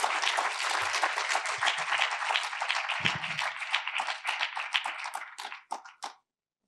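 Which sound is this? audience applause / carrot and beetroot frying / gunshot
audience applause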